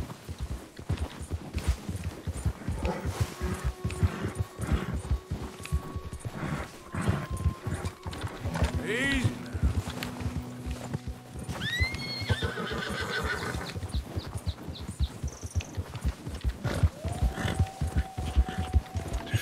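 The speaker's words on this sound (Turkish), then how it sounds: "Ben bu atı çok sevdim bu arada." Horse in Red Dead Redemption 2 plodding with steady clip-clop hooves on a snowy winter map, with a couple of clear whinnies and snorts rising over the rhythmic footfalls and a low ambient hum.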